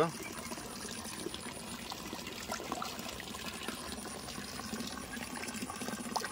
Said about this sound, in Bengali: আর এদিকে আমাদের জল চলছে দেখো পুকুরে, হালকা হালকা জল পড়ছে পুকুরে।